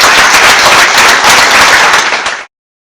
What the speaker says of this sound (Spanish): vamos a darle un fuerte aplauso a Francisco.